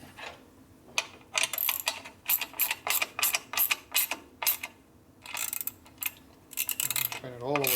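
A socket ratchet clicks in rapid repeated bursts as it tightens a bolt on a 1967 Harley-Davidson 74ci shovelhead FLH transmission during a rebuild, close and crisp with short pauses between strokes.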